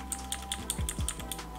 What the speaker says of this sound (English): You can also use the arrow keys to move it better.